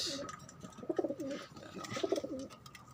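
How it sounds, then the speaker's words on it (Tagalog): Blue check tippler pigeons coo softly in repeated low, throaty phrases from close by, with faint background noise throughout. "Bahay tayong kalapati yan."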